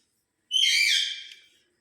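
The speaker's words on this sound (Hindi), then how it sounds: "ये मैना की आवाज़ है।" A pet myna bird gives a single shrill, whistling call lasting about a second, close and loud against otherwise silent surroundings.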